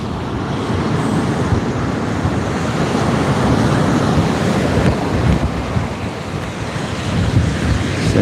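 Strong wind buffets the microphone at sea during kayak fishing, a constant loud rushing roar mixed with the wash of waves, broadband and unbroken throughout, with no voices.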